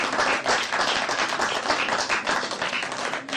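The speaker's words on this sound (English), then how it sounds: "I don't know round of applause." Sustained round of applause from an audience at the close of a radio quiz show, dense steady clapping filling the whole stretch with no talk over it.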